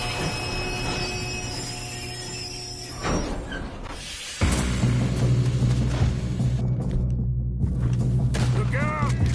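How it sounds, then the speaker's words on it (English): Steam train rumbling along in the video game Red Dead Redemption, a loud continuous mechanical roar with rhythmic chugging, brief booms and gunfire bursts mixed in, swelling louder partway through. "We have to stop this train."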